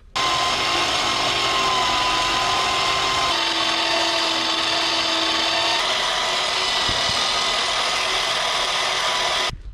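A power tool grinds steadily through a metal mount for a tractor, a harsh continuous whine with shifting pitch that runs unbroken for about ten seconds, close and loud.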